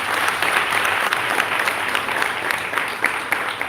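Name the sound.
audience applause for nursing graduates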